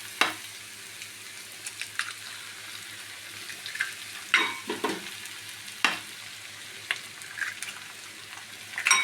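Eggs and small pieces of coconut stirred and fried in a pan for a Kerala thoran, with soft sizzling under repeated scraping and stirring clatters that come in irregular bursts, close and moderately quiet.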